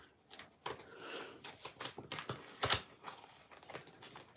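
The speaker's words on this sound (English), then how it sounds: "I can't shuffle these cards worth of crap right now." Playing cards are shuffled by hand in short irregular bursts of riffling and flicking, close and fairly quiet, with brief pauses between the bursts.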